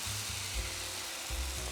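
Vegan omelette batter hits a hot, oiled frying pan and sizzles briefly and continuously, with a few low bumps from the pan or pouring, and no voices.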